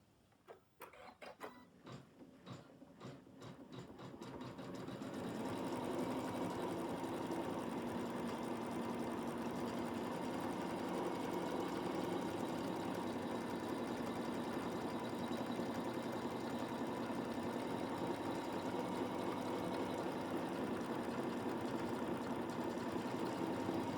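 An embroidery machine tacks down applique fabric on a cuddly teddy design, starting with a few stuttering stitches, then settling into a continuous steady whirring hum that runs unchanged for the rest of the clip.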